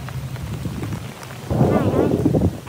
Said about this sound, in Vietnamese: Mưa này là lớn rồi nha.